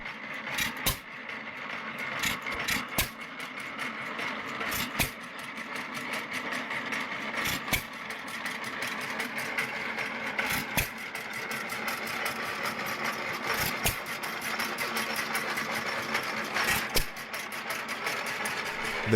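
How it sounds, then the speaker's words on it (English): A 1919 hit-and-miss stationary engine mounted on an antique tractor chassis runs at low speed. Evenly spaced sharp firing pops sound every couple of seconds over a constant low mechanical rumble and clatter. "The hit-and-miss engine operates at low speed, firing only when needed, which made it economical and reliable for farmers with limited fuel and resources"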